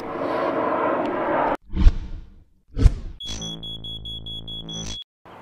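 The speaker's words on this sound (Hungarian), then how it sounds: "úgy hallom ismét valami nagyon csipog a gépen." A metal detector sweeping a treasure-hunting site gives a sustained, steady high-pitched beep lasting nearly two seconds, after earlier bursts of scraping and swishing near the ground surface.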